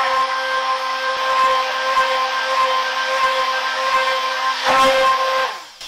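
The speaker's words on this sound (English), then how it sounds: "I like to just stick blend it so that it's really smooth" A stick blender purees cooked Parsi-style mori dal fresh from the pressure cooker, a steady close motor whine with a bright pitched hum that surges briefly near the end before winding down.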